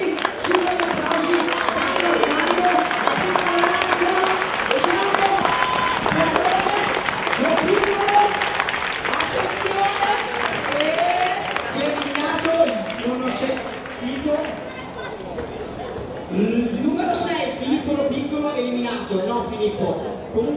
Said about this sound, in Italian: super gli applausi